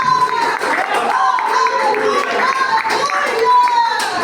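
A church congregation claps together amid shouts and raised voices, a loud, busy mix of hands and singing-like speech filling the room throughout.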